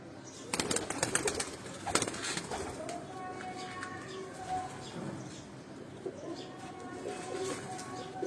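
Sialkoti breed pigeons cooing, large and long-bodied birds at a breeder's loft, with soft repeated coos and occasional wing flutters over a busy background of other birds.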